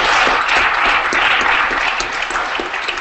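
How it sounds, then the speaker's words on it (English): An audience applauds a speaker after a Ruby web development talk, a full, continuous wash of clapping with individual claps standing out. "let's give him another round of applause."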